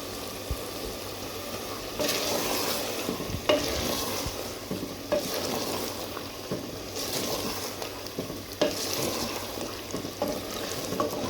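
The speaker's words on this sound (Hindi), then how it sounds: "कितना अच्छा भून गया।" Bottle gourd and mutton frying in a pot, a steady sizzle with repeated scraping stirs and occasional spoon knocks against the metal, close and moderately loud.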